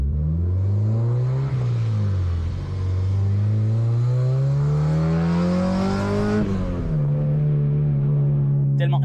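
A Honda Civic fitted with a K24 engine revs hard while driving, its loud engine note climbing steadily in pitch for several seconds, dropping briefly, then holding a strong, steady drone close by.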